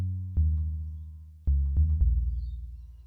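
An 808-style bass synthesized from a sine wave in Ableton Operator, a few deep sustained low tones with soft attacks that ring out and decay slowly, alone and without talk.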